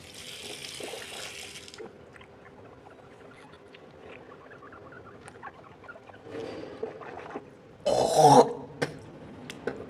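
Running water and mouth rinsing during ablution, with swishing and gargle-like throat sounds, a spit or splash, and a louder burst of water near the end; close, fairly quiet, with no talk.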